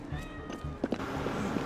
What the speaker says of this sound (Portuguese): Tem gato aqui.